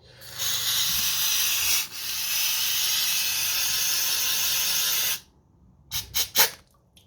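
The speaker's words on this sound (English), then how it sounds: "So this is a air intake carburetor cleaner. This is good for you cleaning carbs." Carburetor cleaner sprays in a loud, steady aerosol hiss onto a petrol lawnmower carburetor, one long burst of about five seconds with a brief dip, followed by three short spurts.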